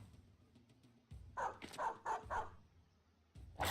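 A dog in the Battle Brothers video game gives a quick run of sharp barks and yips after a quiet lull, then a final bark at the very end, fairly faint overall.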